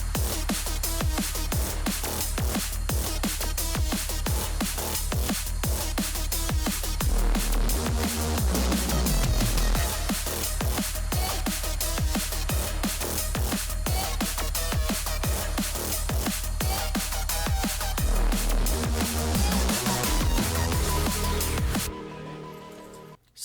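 A neurofunk drop produced in FL Studio pounds loud and dense with heavy sub bass, sharp drum breaks and gritty mid-range bass stabs, playing unbroken before cutting off at the end.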